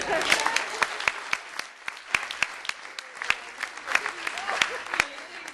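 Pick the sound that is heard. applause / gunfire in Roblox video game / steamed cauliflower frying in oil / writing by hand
applause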